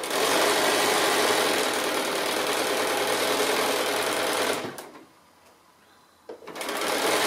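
Sewing machine stitching binding around a slightly curved seam on a fabric hanging pocket made from 2½-inch strips, a loud, close, continuous whir for several seconds, then a brief pause before the motor starts up again.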